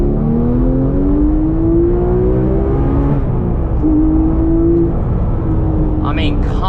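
A Porsche 997 GT3 RS 4.0 engine pulls hard under acceleration, a rising rev note sweeping upward, dipping at a shift, then climbing again, loud and continuous from inside the cabin.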